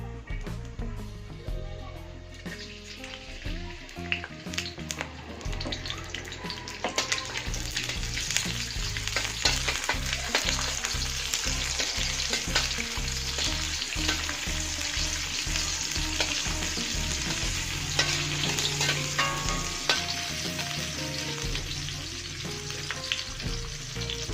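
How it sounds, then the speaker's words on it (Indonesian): Loud, steady sizzle of shallots and garlic dropped into 10 ml of hot oil, frying continuously with occasional stirring scrapes, close by and without speech. "Ini minyaknya sudah panas, langsung saja kita masukkan bawang merah dan bawang putihnya"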